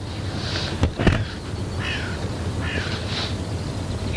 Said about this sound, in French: Écoutez ces oiseaux, écoutez.